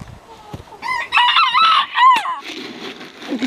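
A young farm rooster crows loudly and close by in a wavering, broken call lasting about a second and a half, with softer clucking and farmyard rustle around it.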